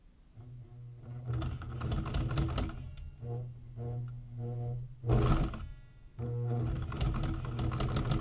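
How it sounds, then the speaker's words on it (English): An older sewing machine stitches a laptop bag in a home workshop, running in several steady mechanical bursts with brief pauses, close and fairly loud, no talking. "this is in, you know, an older sewing machine"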